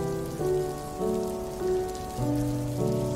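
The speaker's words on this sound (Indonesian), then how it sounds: "Ini adalah bunyi hujan." Steady rain pattering down, with soft sustained melodic tones stepping through notes underneath.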